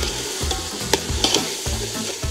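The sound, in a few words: stirring rice cooking over firewood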